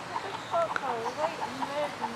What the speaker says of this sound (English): A cockerel, apologies. They run wild.